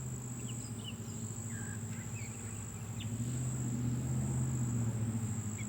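Honeybees crawling over drawn comb on a top bar during an open hive inspection, making a steady low hum with a higher whine above it, close and continuous with no talking.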